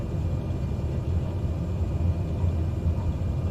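A light aircraft in Microsoft Flight Simulator 2020 rolling for takeoff, a steady loud low engine rumble and drone held throughout, with no talk over it.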